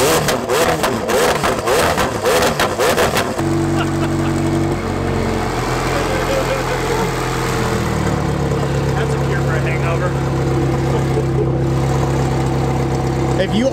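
A McLaren car engine sounds loud and close, with a rapid pulsing rev at first, then a steady roar and idle with shifting pitch. Voices talk over it.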